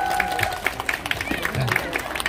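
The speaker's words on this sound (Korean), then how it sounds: "박수 한번 주세요." Scattered applause from an outdoor audience at a neighborhood busking performance, light uneven claps mixed with crowd murmur and voices for a couple of seconds.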